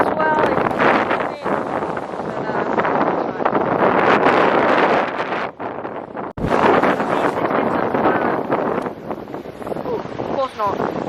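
Strong gusting wind at Hamelin Bay beach buffets the microphone in loud, continuous roaring bursts with brief dips, near and rough throughout.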